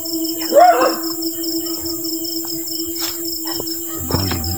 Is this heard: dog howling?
yes